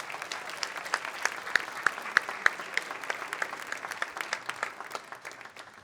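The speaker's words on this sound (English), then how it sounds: "Let's give them another big round of applause." Applause from a banquet crowd at a college athletics hall of fame dinner, with sharp individual claps standing out near the front before the clapping gradually thins and fades.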